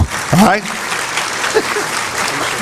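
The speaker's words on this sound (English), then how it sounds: "Let's have a really warm round of applause for Jim Renacci" A crowd at a Portage County Tea Party gathering applauds Ohio congressman and governor candidate Jim Renacci. Steady, moderately loud clapping continues throughout, and a voice speaks briefly over it at the start.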